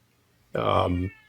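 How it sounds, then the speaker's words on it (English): A house cat lets out a single clear, drawn-out meow lasting about half a second, close and loud against an otherwise quiet room. "I don't know if you can hear the cat, but he's meowing."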